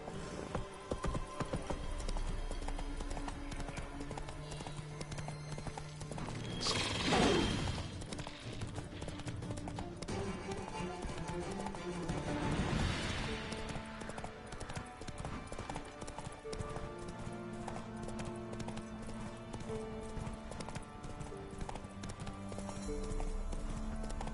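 Hooves of the horse Roach clip-clopping steadily in The Witcher 3, a continuous rhythmic trot over game music and ambience, with a couple of louder whooshing swells along the way.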